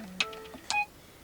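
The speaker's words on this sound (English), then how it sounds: "That's our alarm to remember to take the garbage to the curb." Two short electronic beep tones, a brief low note then a bright double chirp, sounding close in a quiet room.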